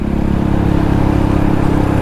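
A motorcycle on the road gives a steady, loud, close engine drone with a low rumble throughout, and no voices are heard.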